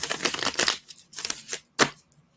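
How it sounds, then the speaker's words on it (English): A deck of oracle cards is shuffled in several quick papery riffles and slides, close and soft, with short pauses between bursts. "One more shuffle."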